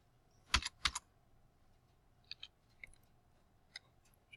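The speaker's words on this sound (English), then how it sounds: "I just type 20 here and hit enter" Typing on a computer keyboard in a quiet room: a quick double clack of keys, then sparse light taps spaced apart, close and fairly faint.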